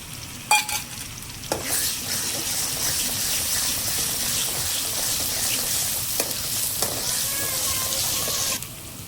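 Tomatoes, chilies, ginger and garlic sizzle loudly in a hot pan, a steady broadband frying hiss with occasional stirring scrapes and clinks running through the whole stretch before cutting off near the end.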